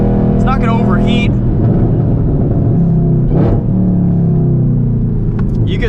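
Chevrolet Camaro ZL1 V8 with manual gearbox on a race track, a steady close engine rumble that rises in a brief rev, running under continuous talk from the driver.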